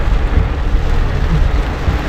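Steady rain falling at Wonderla Kochi amusement park, a continuous dense hiss with low rumbling underneath, fairly loud and unbroken throughout with no voices.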